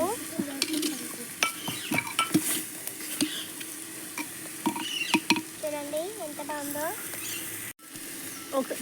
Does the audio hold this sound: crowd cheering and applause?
no